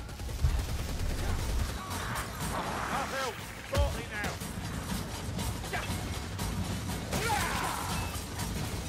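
A Ratling gun in Warhammer: Vermintide fires sustained rattling bursts amid crashing combat noise and heavy impacts, with voices calling out over the fighting.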